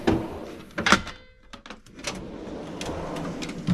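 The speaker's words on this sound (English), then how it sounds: "Power drawer." Power drawer sliding on an 84-inch Snap-on Epiq tool box in sapphire blue, a smooth mechanical glide with clicks and a clunk near the start, heard up close in a workshop.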